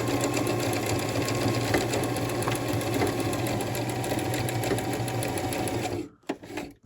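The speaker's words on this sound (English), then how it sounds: "I put the center of the needle right over where I was stitching, and then I do my zigzagging, and I'm going back and forth" A domestic sewing machine running steadily through back-and-forth zigzag stitching, a loud continuous motor hum with rapid needle ticking for about six seconds before it stops abruptly and a few faint handling clicks follow.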